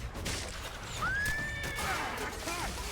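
A horse whinnies loudly in a rising then falling call, over a steady background of noise and distant commotion.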